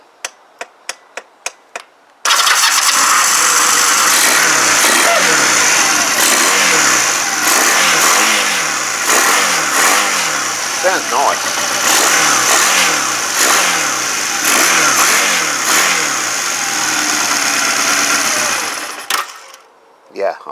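A Honda CM200T Twinstar motorcycle engine that won't idle starts up after a few clicks and runs loudly up close, its rough mid-pitched drone rising and falling through repeated revs before cutting out. A voice speaks briefly.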